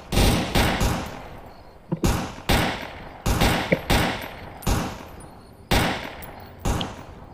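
Single AK rifle shots in a Soviet-Afghan war video game, seven or eight loud, sharp cracks spaced about a second apart with short echoing tails, no talk between them.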